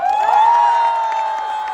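Outdoor celebration concert crowd for a Dobong-gu citizens' day performance gives a sustained swell of cheering and high shouts, loud and continuous, with faint clapping underneath.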